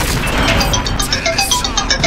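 Tank shell striking a target in the console version of World of Tanks: a loud crashing impact followed by dense metallic clatter and ringing pings, continuous over about two seconds with no talk.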